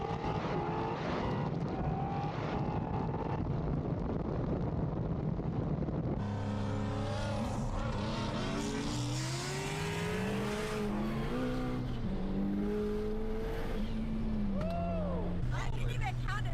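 A 1300 hp twin-turbo Shelby GT350 Mustang street racing in Texas roars past with rising, revving engine pitch from mid-distance, under steady crowd chatter and nearby voices.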